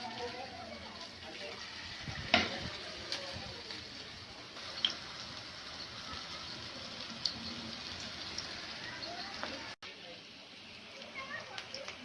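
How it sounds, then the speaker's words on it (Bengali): Raw-potato pakoras deep-frying in hot oil give a steady, moderately quiet sizzle with a few sharp pops and crackles scattered through it. "দুই মিনিট ভাজার পর আমি এগুলো উল্টে দিব।"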